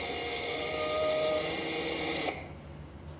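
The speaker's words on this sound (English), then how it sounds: "It's a drill." A power drill whines with a steady, high-pitched running tone that cuts off abruptly after about two seconds, leaving a quieter background.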